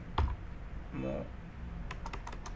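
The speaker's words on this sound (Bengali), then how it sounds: "আমি একটা পাসওয়ার্ড লিখলাম আপনাদের" Several quick keystrokes tapped on a computer keyboard while a password is entered, a short clustered burst near the end after a lone click and a brief murmur of speech early on, all fairly quiet against room hiss.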